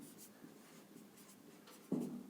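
Pen writing on paper or a board while working a Class 10 geometry problem, a soft continuous scratching with a brief louder stroke near the end, close and alone.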